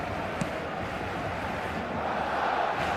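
Stadium crowd in the FC 25 football video game, a steady dense roar of cheering spectators holding at an even level throughout, broad and continuous with no distinct voices standing out.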